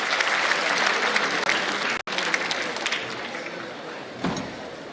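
Applause from a conference audience during a floral welcome at an Indo-Japan international conference, a dense sustained round of clapping that drops out briefly midway, then tapers toward the end.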